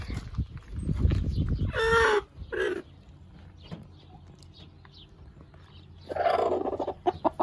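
Loud clucking and squawking from chickens nearby on a farm, in bursts with quieter gaps between, and another burst of agitated calls near the end.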